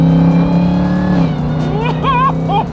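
Supercharged Jeep Trackhawk V8 with a new cold air intake, its engine droning loudly and steadily, then rising in pitch through a few sharp revs near the end, with voices talking over it.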